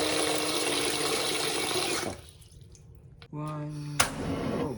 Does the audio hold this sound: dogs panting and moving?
no